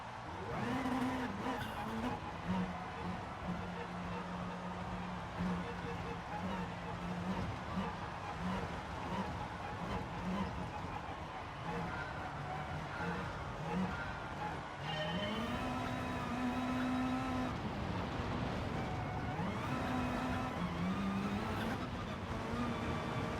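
Mitsubishi Lancer Evo rally car in Gran Turismo Sport, a Nations Series race at the Rally Ranch track. The engine drones steadily with rising and falling revs and tire skids throughout, loud and close, with a shift in tone partway.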